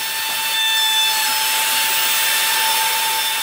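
Power sanding of a hand-planed pallet wood tabletop, a steady bright abrasive hiss with a constant motor whine, close and unbroken.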